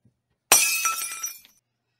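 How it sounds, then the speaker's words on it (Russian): A crucifix falls and breaks with a single sudden, bright shattering crash. Fragments skitter and tinkle for about a second before silence returns. "Крест разбился, что теперь будет?"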